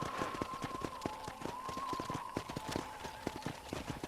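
Steady clip-clop of a horse's hooves while riding in Red Dead Redemption, a close, even trotting rhythm with a faint whinny and light background game sound.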